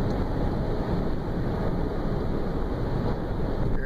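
A Honda Insight cruising in fifth gear, captured as a steady broad rumble of engine and road noise mixed with wind buffeting, constant and fairly loud throughout, with no talking.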